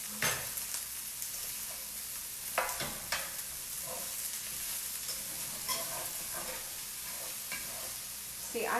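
A utensil scrapes browned fond from the bottom of a frying pan during beef stroganoff preparation, giving scattered scratchy strokes over a constant background sizzle, fairly close and moderately loud, with no talking.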